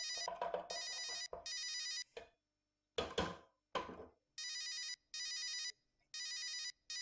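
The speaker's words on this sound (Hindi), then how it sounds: "फोन उठाओ" An old-style telephone bell rings in repeated bursts in a quiet indoor domestic room, with brief knocks and clatter between the rings.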